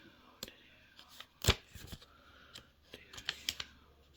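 Tarot cards are slid and laid out on a table in a row of five, giving soft scattered rustles and a sharper flick now and then. The sounds are quiet and close.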